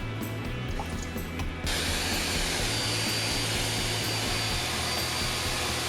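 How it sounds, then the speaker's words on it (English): Food processor pureeing homemade garden sriracha chili sauce thinned with vinegar, a steady loud whirring motor hum starting after a brief quieter moment and running continuously to the end. "food processor."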